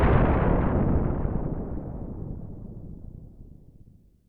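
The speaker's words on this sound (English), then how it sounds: "that was a nuclear bomb explosion" A nuclear bomb explosion sound effect: a huge, loud blast that starts at full force and then rumbles and roars as it slowly fades into silence over about four seconds, with no voices.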